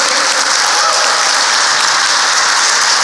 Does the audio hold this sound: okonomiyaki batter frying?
no